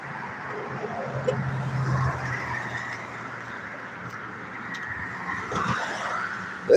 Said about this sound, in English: This looks like a big Dalton Utilities truck coming by right here.